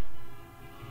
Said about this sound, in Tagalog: Pagkasaba bas mga busina din eh.